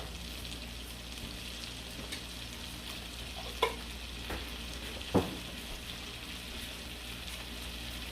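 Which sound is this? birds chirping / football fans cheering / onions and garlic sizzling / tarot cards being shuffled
onions and garlic sizzling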